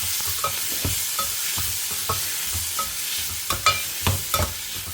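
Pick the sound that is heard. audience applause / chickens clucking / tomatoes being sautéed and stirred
tomatoes being sautéed and stirred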